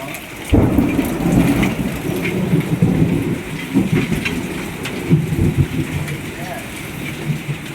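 A hailstorm with heavy rain and strong wind, a dense roar of downpour drumming on surfaces with gusty rumbling that swells and fades, loud and close throughout, with occasional faint voices underneath.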